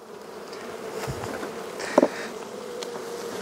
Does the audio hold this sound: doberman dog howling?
no